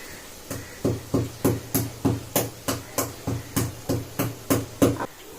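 About a dozen peppercorns are pounded in a stone mortar, with a dozen or so evenly spaced, dull thudding strikes in a steady rhythm, close and fairly loud, and no talking.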